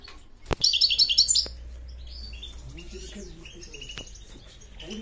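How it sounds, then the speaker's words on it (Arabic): Small caged birds from a breeder's aviary chirp in a quick, bright burst of tweets, then keep calling more softly in the background over low room noise and a few clicks. "من الطويرات اللي ورانا"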